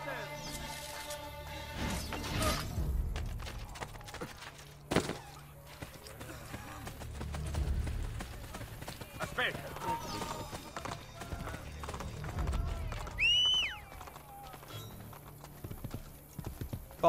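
Rhythmic clip-clop of horse hooves with an occasional whinny in the video game Assassin's Creed Brotherhood, layered over game music and ambient effects, with some speech mixed in.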